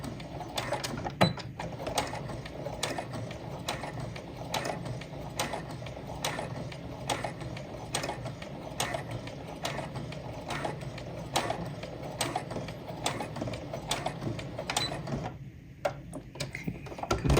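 A sewing machine's hand wheel turns slowly while an apron is sewn, giving a long, even series of light mechanical clicks and ticks, close up and steady, with no talking.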